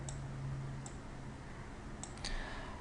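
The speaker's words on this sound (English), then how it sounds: "I can hear someone typing on the background" Faint keyboard typing in the background of an online webinar, a few scattered sharp clicks over a low hum.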